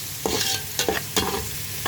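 Steady sizzling of garlic sautéing in a pan, with a few soft scrapes of a utensil stirring, close and continuous with no talking.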